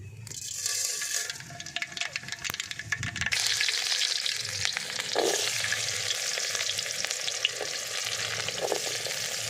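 Mustard seeds spluttering and sizzling in hot oil in a pan while making a drumstick stir-fry, a steady close crackle with scattered pops and a brief stir partway through.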